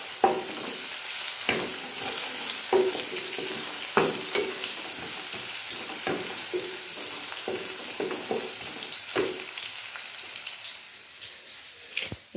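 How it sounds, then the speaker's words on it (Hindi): Onions fry in a pan with a soft, fairly quiet sizzle and crackle, broken by frequent knocks and scrapes from stirring. "वो जो प्याज साहब है ना वो बेचारे जल भून रहे हैं"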